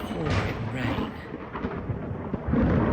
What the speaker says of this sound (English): there was a great storm raging, with thunder and lightning and pouring rain